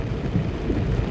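Heavy rain pours steadily on a flooded road in Jamaica, a dense continuous rumbling wash with no talk, close and loud throughout.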